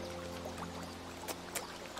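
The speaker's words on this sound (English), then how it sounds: "We hear the soothing sounds of the water distracting us from what we are doing" Gentle flowing water from the Woodlands level of the game Tiny Lands, a steady soft trickle beneath faint background music with a couple of brief splashy accents.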